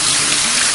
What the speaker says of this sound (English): just rinse them good